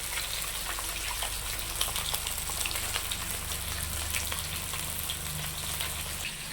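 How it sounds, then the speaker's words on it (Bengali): Pieces of large catla fish fry in a pan with a steady, faint sizzle and scattered crackles over a low background hum. "এদিকে মাছ ভাজা চলছে"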